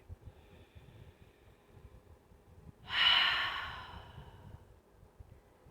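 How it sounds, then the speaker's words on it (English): One deep belly breath pushed out through the mouth as a long, airy sigh, rising suddenly and fading over about a second against a faint low background hum. "Breathing out through the mouth with a sigh or an ah, and another big belly breath too."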